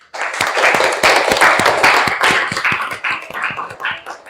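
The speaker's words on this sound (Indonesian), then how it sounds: "Kita aplaus untuk kegiatan hari ini." Classroom of students applauding together, a dense patter of many hands clapping with sharp individual slaps, sustained for several seconds at close range before thinning out.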